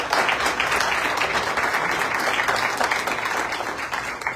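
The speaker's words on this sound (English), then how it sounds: "If we could give them a round of applause, please." An audience at a Porterville city council candidate forum claps for the candidates, steady, dense applause filling the room for several seconds without a break.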